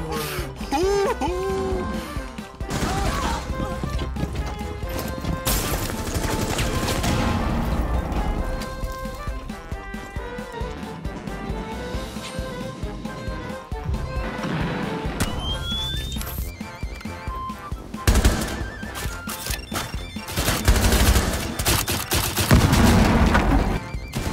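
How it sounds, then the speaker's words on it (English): Rainbow Six Siege gunfire rattles in loud, sustained bursts and overlapping shots mixed with game effects, heavy and nearly continuous throughout, with brief voices underneath. "this guy's literally shooting a dead body"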